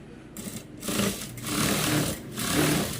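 A sewing machine stitching the side seams of a garment, running close in several bursts of rapid mechanical whirring separated by brief pauses, with no talk.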